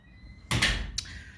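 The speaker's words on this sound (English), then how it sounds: "Close the door." A door swings shut with a solid thump, followed a moment later by a second, lighter knock, close by against a quiet room.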